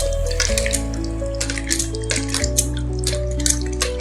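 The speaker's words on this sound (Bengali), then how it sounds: "গাটি কচুগুলো আমি খুব ভালো করে ধুয়ে নেব কয়েকবার" Gati kochu (taro roots) being washed and rubbed by hand in water, with repeated splashing and sloshing heard over steady background music.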